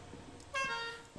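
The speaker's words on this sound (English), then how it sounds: "I got a horn!" A horn in the video game Lethal Company honks once, a short loud bright toot with clear harmonic tone, followed by the start of a second blast near the end, with faint game background between.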